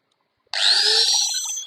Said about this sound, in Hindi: इसके साथ साथ एक और आ जाता है मैकटिक का ग्राइंडर।